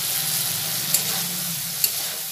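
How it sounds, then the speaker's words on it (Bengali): Fried potatoes are stirred into a spice paste in a pan for an aloo-begun curry, with continuous close sizzling and two sharp spoon taps against the pan. Nobody speaks. "দিয়ে আলুটা মশলার সাথে ভালো করে মিশিয়ে নেবো"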